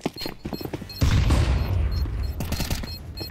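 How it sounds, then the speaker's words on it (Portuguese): Gunfire in Counter-Strike 2 during a competitive match, a sustained burst of rapid shots with heavy booming low end after an opening stretch of quieter game sounds. "Atirando no cara, DG!"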